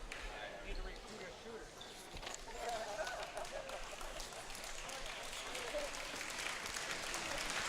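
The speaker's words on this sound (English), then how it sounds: "Hines gets a nice round of applause as he exits the game" Applause ripples through a college basketball arena, UTPA against Cal State Bakersfield, as player Hines leaves the game; a steady crowd clapping runs throughout, mixed with arena noise and a commentator talking over it.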